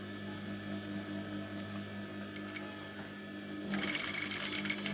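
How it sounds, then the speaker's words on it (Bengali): A sewing machine stitches fabric along a marked line for a child's skirt or palazzo, a steady mechanical whir that turns louder and brighter near the end, with no talking. "আমি দাগ অনুযায়ী সেলাইটা করে নেব।"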